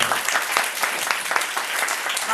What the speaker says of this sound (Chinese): 大家热烈掌声